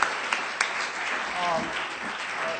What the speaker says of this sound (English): Would you join me in another round of applause?